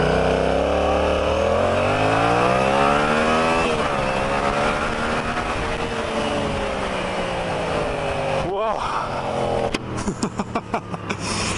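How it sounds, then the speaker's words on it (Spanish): A Yamaha FZ-07 motorcycle with an opened exhaust revs up and down, its engine note rising and falling in pitch, loud and close, ending with a series of sharp throttle blips. "está sonando así de bonito porque le abrieron el escape"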